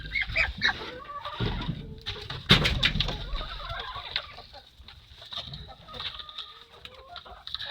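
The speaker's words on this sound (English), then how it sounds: "That is a big number of chicks." Chickens cluck and chatter in a small, crowded chicken house with many chicks, a steady mix of near and far clucks and calls with no talking.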